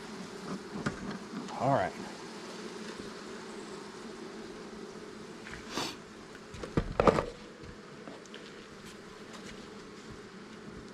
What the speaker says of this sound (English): That is the honeybee.